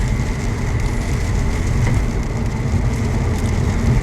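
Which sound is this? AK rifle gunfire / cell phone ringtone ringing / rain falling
rain falling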